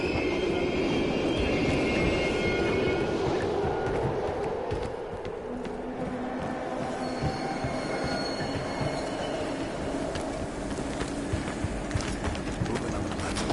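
Train rolling past in the Call of Duty Black Ops Cold War campaign, steady rumbling wheels with metallic squeals and clatter, close and continuous throughout, easing slightly midway.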